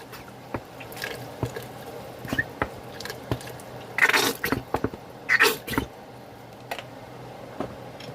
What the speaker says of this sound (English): Now we're going to add some ketchup.